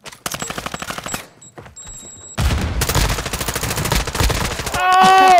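A video game firefight with rapid automatic gunfire in bursts, near and loud, broken by a short lull before heavier sustained shooting resumes.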